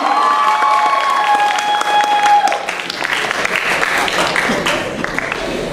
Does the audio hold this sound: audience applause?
yes